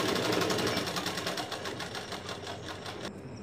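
A sewing machine stitches blouse fabric around the neckline in a fast, even mechanical whir of rapid needle strokes, loud and close, stopping abruptly just before the end.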